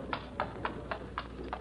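Hooves of a horse drawing a lady's carriage clip-clop in a steady, even rhythm, about six distinct hoof falls over a soft background hiss, in an old radio drama.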